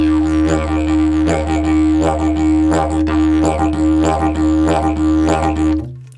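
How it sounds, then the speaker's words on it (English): A didgeridoo drones low and steady while rhythmic, pulsing vocal shapes made with inflated cheeks create a repeating deep 'wokka' pattern, played alone up close before stopping. "You can get this kind of more deeper sound"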